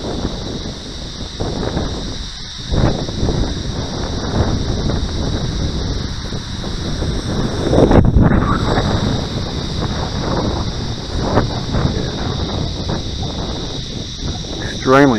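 A custom-built model plane with a modified wing cruises past while gusting wind buffets the microphone in a steady roar, with a voice talking over it throughout.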